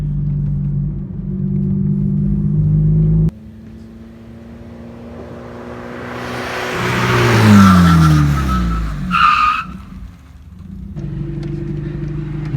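A car braking hard during a brake test run on drilled and slotted rotors with performance pads: engine rumble drops away as the car decelerates, with a brief harsh hiss of tyres and brakes, then the engine settles back to idle.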